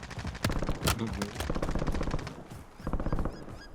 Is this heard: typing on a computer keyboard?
no